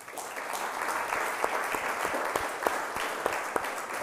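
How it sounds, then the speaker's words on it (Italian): Studio audience applauding steadily throughout at a moderate level, a dense wash of claps with a few sharper individual claps standing out, following an Italian television segment about a prison theatre association. "Grazie, un applauso."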